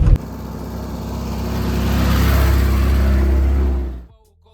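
A VAZ 21099 car drives with a loud, steady engine roar and road rumble heard from inside the cabin, swelling slightly before cutting off abruptly near the end.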